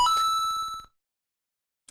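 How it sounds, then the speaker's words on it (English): A faulty text-to-speech alert gives a short burst of electronic beeps, a rapid bright chiming pulse that stops abruptly after under a second, leaving silence. "Now we're just getting literal beeps that don't even make any sense."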